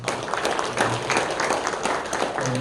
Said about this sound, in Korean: 박영민 전사를 위해서 축하 박수 한번 드리겠습니다